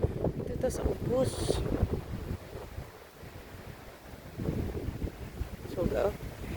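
Wind gusts in a cold mountain forest, rough buffeting noise that swells and eases, with someone speaking over it.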